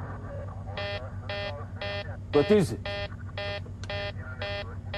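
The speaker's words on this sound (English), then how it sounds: "As Helios 522 climbs, an alarm blares in the cockpit." Repeating cockpit warning alarm on the Helios 522 airliner during climb, a steady series of evenly spaced electronic horn bursts, about nine in five seconds, with a brief spoken question cutting in midway.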